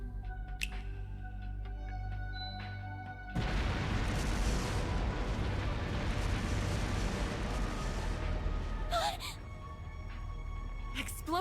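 Explosive artifacts detonating in the video game Trails through Daybreak, heard as a sudden loud blast that swells into a sustained rumbling roar for several seconds, then settles back into steady background game sound.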